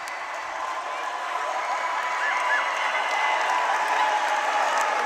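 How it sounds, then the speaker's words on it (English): A crowd at a high school boys basketball game between El Segundo and Santa Monica gives a standing ovation, with sustained dense applause and cheering that holds steady and slightly swells, with a faint voice under it. "A well-deserved standing ovation for Cameron Carlton."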